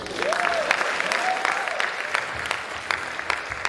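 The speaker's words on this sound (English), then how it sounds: "Keep clapping, keep clapping, keep clapping" Audience applause after a speech at a World Mental Health Day event, steady, dense clapping from a large crowd, sustained and fairly loud throughout with no talking.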